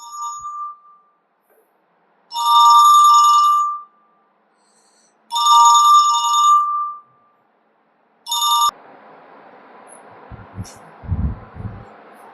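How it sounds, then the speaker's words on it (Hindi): A mobile phone ringtone chimes for an incoming call in three bright electronic bursts with pauses between, cut short on the third, followed by quiet room noise and a few soft handling thumps. "फोन आ गया, 1 मिनट के लिए"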